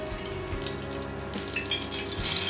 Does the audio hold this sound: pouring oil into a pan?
yes